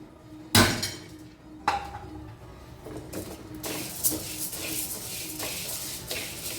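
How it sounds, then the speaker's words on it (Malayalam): Dry rice grains rattle and scrape while roasting in a metal frying pan, with a sharp clank near the start and a steady busy clatter after it. "ചീനിച്ചട്ടിയിൽ വെച്ച് നമുക്ക് അരി നന്നായിട്ട് വറുത്തെടുക്കാം."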